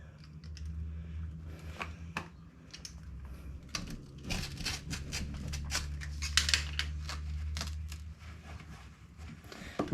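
Old carpeting being cut right at the edge with a blade during cabinet and carpet removal, giving a steady run of close, crisp snipping and crinkling strokes over a low hum.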